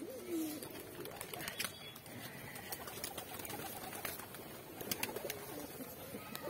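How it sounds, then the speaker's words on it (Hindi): A white pet pigeon cooing softly and repeatedly, close and faint, with light rustling and small clicks in the background. "कितना क्यूट सा कबूतर है मेरा, ये व्हाइट कलर का"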